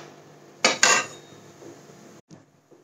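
Koki flatbread flipped over on a pan with a fork: two quick metallic clinks and scrapes of fork against pan, close and distinct, followed by a soft sizzle and a couple of faint taps.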